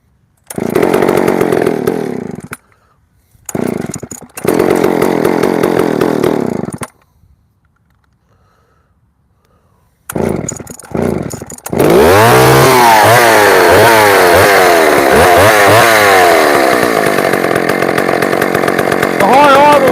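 An old-school Husqvarna chainsaw is started with a few short bursts and pauses, then runs loud and close with a buzzing engine note that rises and falls as the throttle is revved.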